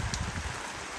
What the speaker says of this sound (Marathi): इथं पाऊस काय थांब नाही.